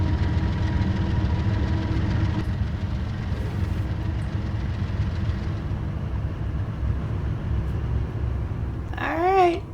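Canadian GE GEVO diesel locomotive in Train Simulator on the Montana Hi-Line, its engine holding a steady low rumble and drone throughout, with a brief rising whine near the end.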